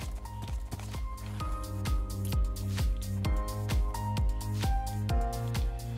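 Rhythmic galloping hoof beats from a herd of horses in the Horse Quest II video game, steady repeating clip-clop over a looping musical backdrop, no voices.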